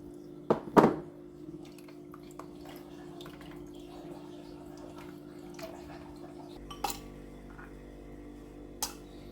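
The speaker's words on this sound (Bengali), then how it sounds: "আইসটা দিয়ে দিলাম" Ice cubes drop into a glass of palm fruit juice with a quick cluster of clinks, then a couple of isolated faint taps in a quiet kitchen.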